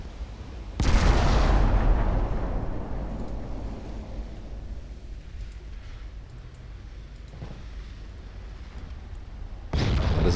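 A naval broadside from a German super battleship in Ultimate Admiral Dreadnoughts lands as a loud, deep boom that rolls off into a long rumbling tail, followed near the end by another heavy blast.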